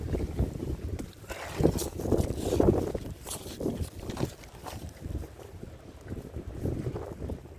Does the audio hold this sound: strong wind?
yes